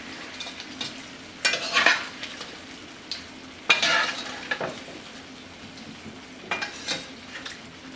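Shrimp pinakbet with bitter melon stir-fries in a pan, a steady sizzle punctuated by several bursts of scraping spatula strokes and light clinks of utensil on metal, close up with no talking.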